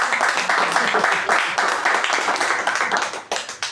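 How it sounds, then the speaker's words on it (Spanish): A book-launch audience at a literary event in Paraguay claps loudly and continuously, dense overlapping handclaps filling the room at close range without pause. "Un aplauso, por favor."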